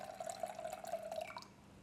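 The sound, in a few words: lemonade pouring from VEVOR beverage dispenser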